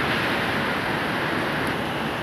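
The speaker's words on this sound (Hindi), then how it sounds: "इतनी हवा चल रही है जोर से" Strong wind during a hailstorm roars in a steady, loud, broad rush with no pauses.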